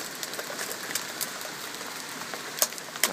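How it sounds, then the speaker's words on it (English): Pea-sized hail falling outdoors during heavy rain near woods, a steady hissing patter with a few sharper close impacts standing out toward the end. "There's the hail."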